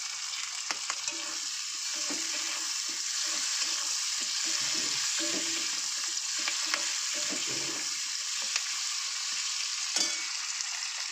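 Red capsicum fries in a pan for a mushroom chicken dish, giving an even, soft sizzle with occasional light clinks of stirring, close and continuous.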